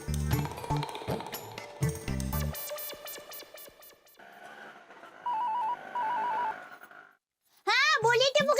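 A phone's ringtone trills in a repeating electronic pattern amid background music, pausing and then sounding again after a brief silence.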